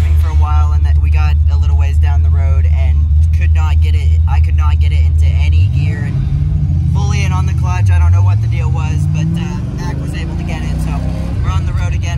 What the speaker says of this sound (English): I'm gonna drive the red Mustang for a while